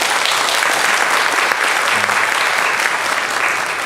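Sustained, dense applause from a church congregation at a Sunday morning service, welcoming a newcomer, holding steady and loud throughout with no pause.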